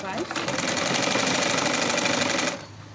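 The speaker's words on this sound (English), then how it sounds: "Can you see where I'm top stitching? Then start sewing." A sewing machine runs in one continuous fast, rhythmic burst while top stitching a shirred dress, close and loud for about two seconds before stopping abruptly.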